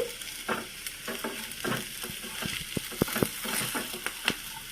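Small cut potato pieces fry in a pan for a crispy aloo fry, a soft constant sizzle broken by the scrape and clatter of repeated stirring, close up with no talking.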